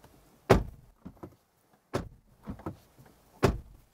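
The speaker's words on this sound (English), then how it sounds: "And then it's our door slam." A 2024 Kia Sorento door is shut three times, each a solid close thud followed by softer rattles and latch clicks between the slams.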